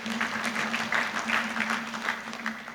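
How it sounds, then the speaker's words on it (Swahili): An audience at a government education-reform meeting claps together, a dense, steady round of applause running throughout with a faint hum underneath. "Naomba tujipigie makofi."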